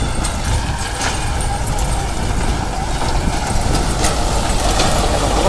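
A tractor pulls a rotavator through a sugarcane field, tilling leftover trash after the harvest and ploughing, with a steady rumbling engine drone and soil churning throughout.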